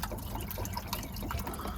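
Coolant drains from a Freightliner cab-over truck after the coolant filter has been taken off. A continuous faint trickle and gurgle of liquid runs throughout, with a low background rumble and no voices.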